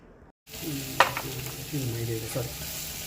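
Whole green chillies and ginger garlic paste sauté in hot oil for mushroom biryani, a steady close sizzle broken by a few sharp spoon scrapes and stirs against the pan after a brief silent start.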